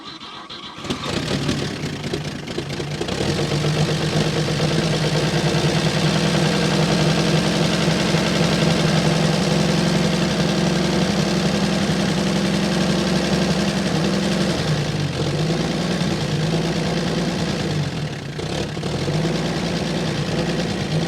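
A 1950s Chevy truck engine catches and settles into a loud, steady close-up idle that rumbles on with only small dips in pitch.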